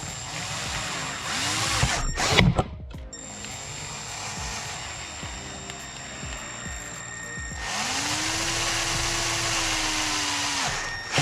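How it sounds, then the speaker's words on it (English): A power drill whines in two sustained runs, steady and close, drilling a hole to mount an LED light bar on a 2021 Can-Am Maverick X3, with a brief clattering burst between them. "I'm drilling this just slightly smaller than what is marked because I want to make sure I have a tight fit,"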